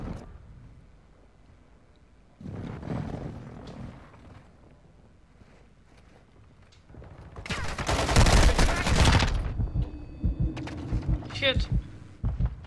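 Airstrike barrage in Call of Duty Warzone 2.0, a loud burst of explosions and rapid gunfire in the middle, with softer gunfire and game noise before and after and a voice talking briefly.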